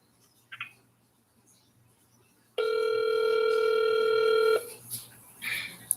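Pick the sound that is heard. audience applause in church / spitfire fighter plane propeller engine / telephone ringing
telephone ringing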